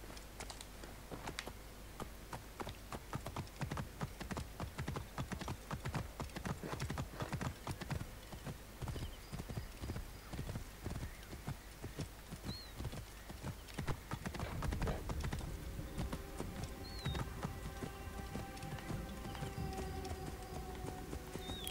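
Rapid, rhythmic hoofbeats of a galloping horse in Assassin's Creed Origins, steady and close, with brief bird-like chirps later on.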